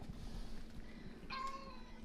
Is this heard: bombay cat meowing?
yes